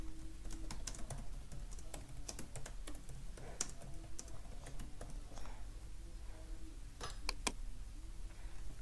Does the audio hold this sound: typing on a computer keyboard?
yes